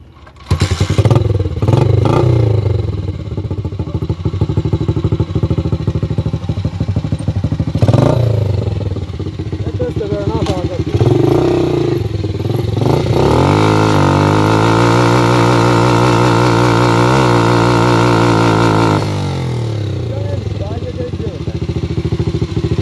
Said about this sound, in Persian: پرسیدین که این موتور برناوت میزنه یا نه